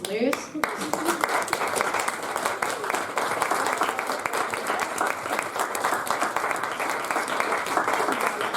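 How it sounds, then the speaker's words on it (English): After a brief moment of speech, an audience at a speaker event breaks into dense, sustained clapping that stays strong and even to the end. "Applause for Phoebe."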